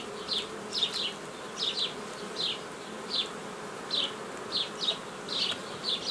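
Honey bees buzz around an opened hive during apiary work on a colony donating brood frames, a steady hum with repeated close passes of individual bees.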